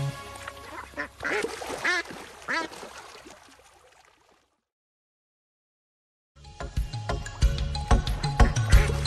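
Cartoonish duck quacks repeat in a sung, musical passage, then a short silence before a busy musical section resumes.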